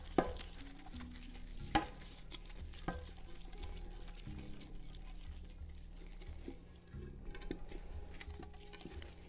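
Cooking oil is mixed by hand in a pot for shrimp biryani, making soft, close wet rubbing and patter sounds with a few sharp knocks against the pot. The sounds are quiet and there is no talking.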